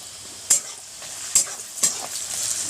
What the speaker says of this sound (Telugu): నూనె జీలకర్ర ఉల్లిపాయ పచ్చిమిరపకాయలు వేసినాం, అది వేగుతుంది ఉల్లిపాయలు